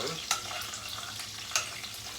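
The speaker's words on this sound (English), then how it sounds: "you want to infuse the oil with the flavors of the herbs" Herbs fry in oil for a Pomodoro sauce, giving a faint, steady sizzle with a couple of sharp pops or stirring clicks.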